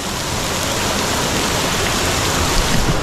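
A waterfall pouring into a natural swimming pool in Pokhara, a steady, close broadband rush of falling water with no pauses.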